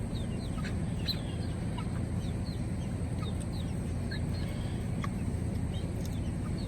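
Young guinea fowl run about outdoors near pheasants, giving short scattered chirps and clucks at a moderate distance over a steady low rumble of wind or background noise, with no talking.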